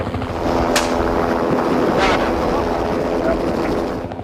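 A helicopter's rotor thrums steadily and loudly throughout while flying low over Yellowstone to dart wolves, with wind buffeting the microphone and occasional gusty bursts.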